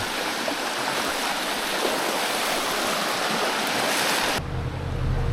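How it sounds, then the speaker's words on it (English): A small river in Canton Jura, Switzerland rushes steadily nearby, a constant broadband flow of water with no voices, continuing unchanged throughout. "It's a really beautiful little river."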